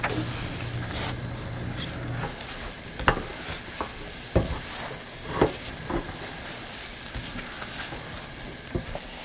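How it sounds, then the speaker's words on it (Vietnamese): Mung bean mooncake filling stirred in a pan, with a soft continuous sizzle and a series of scraping knocks as the spatula works the thick paste, close and moderately quiet. "Các bạn đảo nhân cho đến khi phần nhân này không còn dính phới."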